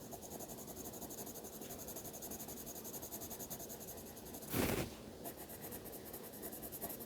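A pencil draws on paper in a simple igloo sketch, a close, soft and continuous scratchy stroking with one brief louder rustle partway through.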